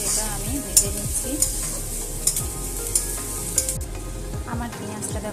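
Finely sliced onions sizzle steadily in hot oil for an elephant-foot-yam mash, with repeated scraping strokes of a spatula stirring the pan close by; no talking.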